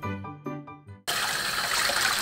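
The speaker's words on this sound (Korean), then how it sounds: "고등어를 흐르는 물로 씻어주세요." Mackerel being rinsed under a running kitchen tap for a braised mackerel dish: after about a second of soft music, a steady, close rush of flowing water takes over and continues alone to the end.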